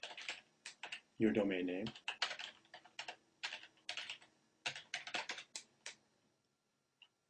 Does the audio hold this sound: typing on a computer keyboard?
yes